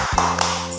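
Children doing a rhythmic spirit clap in an Indonesian kindergarten lesson, a couple of quick sharp claps heard alongside a sustained voice.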